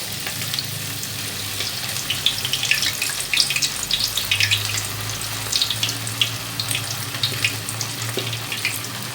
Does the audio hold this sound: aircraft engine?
no